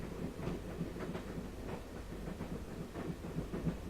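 Steady rumble and rhythmic clatter of a train running on rails in the Broken Sword video game, a continuous mid-level background bed with no voices over it.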